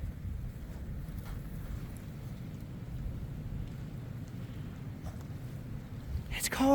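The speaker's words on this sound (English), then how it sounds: "Can you hear that wind?" Cold wind blowing outdoors, heard as a steady low rumble and buffeting against the microphone throughout, with a brief sharper noise near the end.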